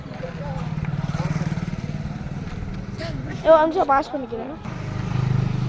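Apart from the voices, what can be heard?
motorbike engine starting and running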